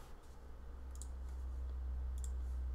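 A computer mouse clicks twice, softly and close, while someone edits a small business website in a visual editor, with a low steady hum underneath.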